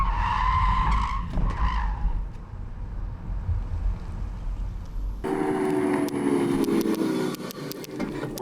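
A 2024 MINI Cooper SE swerving through a moose test lane change, its tyres squealing loudly with engine and wind roar, then an abrupt shift to a steadier, harsher tyre scrub and rumble.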